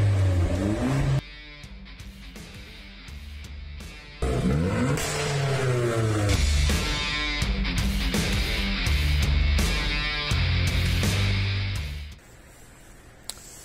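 A Mitsubishi 4G63 engine in a Lancer revs repeatedly, climbing and falling in pitch through several loud bursts before settling back to a low idle.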